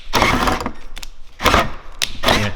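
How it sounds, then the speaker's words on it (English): A power drill bores 7.5 mm holes to mount a FancyWide diffuser on a BMW E36, running in three loud, close bursts separated by short pauses. "Now I am going to drill them with"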